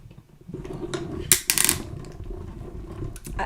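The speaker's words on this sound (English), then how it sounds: "That is paper getting cut." A die-cutting machine cuts white cardstock and presses into plastic, giving a steady mechanical grinding and crunching with a few sharp bright bursts partway through, close and fairly loud, no talking.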